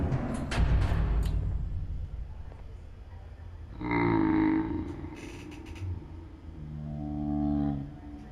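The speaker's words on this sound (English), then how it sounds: "I'm hearing a whale right now" Low, drawn-out whale-like moaning from the Garten of BanBan horror video game, rising in a long tonal swell mid-clip and again near the end over a dim ambient game backdrop.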